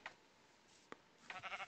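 Minecraft cows mooing in a blocky farm pasture: a couple of faint isolated calls, then a louder cluster of overlapping short moos near the end, with no talking.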